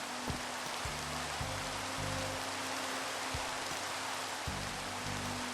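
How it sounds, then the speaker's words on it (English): Steady Minecraft rain hisses as broadband wash throughout, with blocky game tones and clicks from the Gregicality Skyblock modpack sounding underneath. "it's raining once more"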